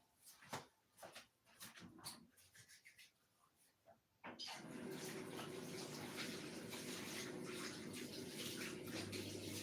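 Hands washed under a running tap while making pizza margherita; light knocks and rubbing give way to a steady, close rush of water flowing for several seconds.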